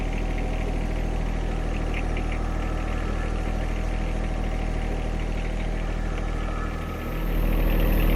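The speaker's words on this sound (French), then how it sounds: "Le tracteur n'a pas trop de difficulté à le changer de place." Tractor engine running steadily at a low, throbbing idle while moving a chicken coop, loud and close, with a brief dip and change in pitch near the end.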